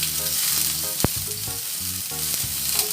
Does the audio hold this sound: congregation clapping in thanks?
no